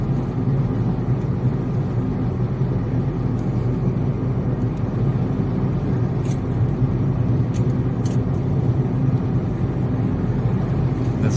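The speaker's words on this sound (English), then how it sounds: "There's a lot of traffic, we can see, and here at this section of the Sea Link" Heavy road traffic on the Mumbai Bandra–Worli Sea Link produces a constant low rumble and tyre roar, loud and steady throughout, heard from inside a moving vehicle with no speech.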